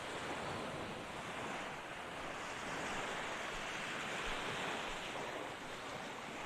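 Surf washing steadily onto a 500-metre Thai beach ringed by trees and hills, a continuous broad wash of breaking waves with wind buffeting the microphone, no voices.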